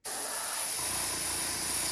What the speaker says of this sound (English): I always do a sample before I spray it on the bird